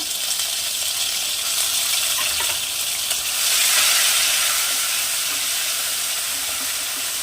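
Garlic paste and ginger paste hitting a hot kadai pan over low heat, giving a steady broadband sizzle that swells briefly midway, close and continuous with no talking.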